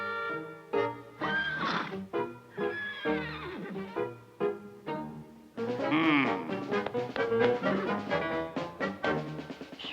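Cartoon horses neigh and whinny in a classic Smurfs animated scene, several loud, wavering calls overlapping one another, with a short pause before a longer run of excited whinnies.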